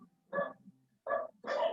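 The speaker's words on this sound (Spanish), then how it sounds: "ven pasar una mosca y ladran" Dogs bark outside near the street: three short, moderately distant barks, the last one slightly longer, with quiet gaps between them.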